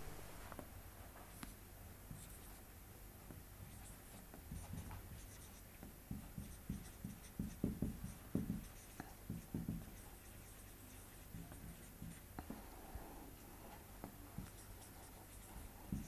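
Pen writing on paper during a maths lesson on Euclid's division algorithm, a steady scratchy scribble running throughout, close and faint, with rhythmic stroke bursts.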